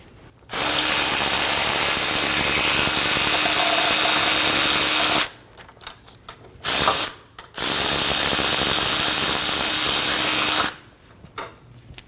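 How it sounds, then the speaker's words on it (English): A power tool ratchets loudly while wheel bearing bolts come out of the front knuckle of a 2012-2022 Volkswagen Passat, two long bursts of steady mechanical whirring separated by brief pauses and short blips. "Remove all the wheel bearing bolts."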